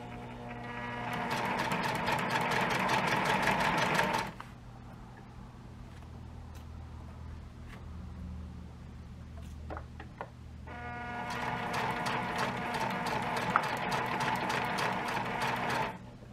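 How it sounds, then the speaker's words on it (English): A domestic sewing machine runs in two steady bursts, stitching the seams of a Regency-style petticoat, with a quiet pause between runs filled by faint clicks and handling noise. "And then everything gets sewn up on my machine."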